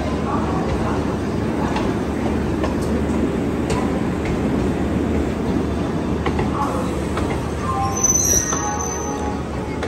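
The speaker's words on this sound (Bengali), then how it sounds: "অবশেষে তাদের ট্রেন চলে আসলো।" A train rumbles heavily into Howrah railway station in India, a steady low roar with a brief high metallic squeal near the end and faint voices around.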